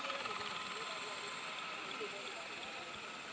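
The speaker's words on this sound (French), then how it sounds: "L'hélicoptère qui salue également cette arrivée, qui se place juste au-dessus du convoi du président de la République." Helicopter hovering above a presidential convoy arriving at a stadium for a village football final, heard as a faint, steady distant whir and hiss, with no speech.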